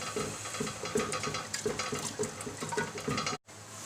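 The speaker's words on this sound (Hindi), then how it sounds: "2 गिलास इसके अंदर जाएगा ये पानी।" About two glasses of chickpea-boiling water go into a cooking pot for Lahori white chickpea cholay, a close, uneven splashing with light clinks and stirring, and no talk.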